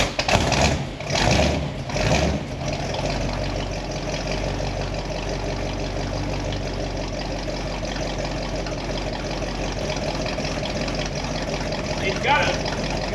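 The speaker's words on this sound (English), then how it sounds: "does that exhaust sound so much better and completely liven this car up" A 1962 Ford Thunderbird with a 428 engine and a different muffler idles with a steady low exhaust rumble after a few louder bursts at the start, continuing close and even.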